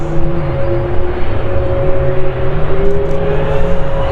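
An Aer Lingus Airbus A330 airliner at Manchester Airport roars close by, its loud, steady jet-engine rumble carrying clear sustained whining tones that shift slightly in pitch as it moves.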